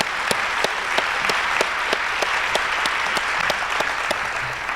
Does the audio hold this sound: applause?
yes